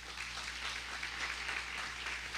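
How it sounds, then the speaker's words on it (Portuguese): A church congregation applauds Jesus at the close of a Bible lesson, a steady, even wash of clapping with no voices over it. "Aplauda bem forte ao Senhor Jesus."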